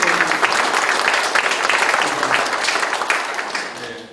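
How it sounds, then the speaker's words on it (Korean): A hall full of people applauds at the inauguration ceremony of the 22nd central president of the Korea Retired Police Officers' Association, honoring a senior member. The thick, loud, continuous clapping holds steady and then fades slightly toward the end, with no voices. "다시 한번 우리 이철선 선배님께 큰 박수 부탁드립니다."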